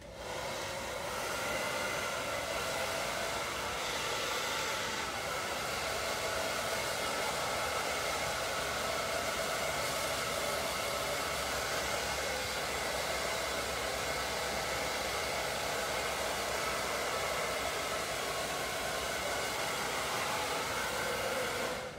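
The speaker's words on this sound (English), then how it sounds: "So I'm gonna turn my dryer on." A hair dryer blows continuously at close range, a steady loud whooshing roar with no pauses.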